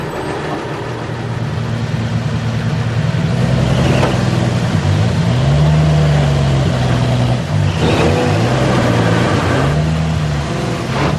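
Several car engines rev hard and drop back in Cuban car sumo wrestling, a pushing contest between cars, with loud, sustained roaring and repeated rising and falling pitch swells close by.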